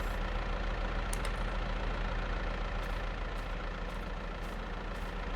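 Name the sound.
Ford tractor engine idling in farming video game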